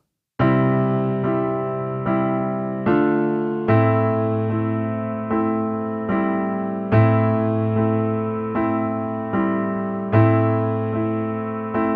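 Piano chords repeat at a steady pace, each group of beats opening with a noticeably stronger chord before softer ones follow.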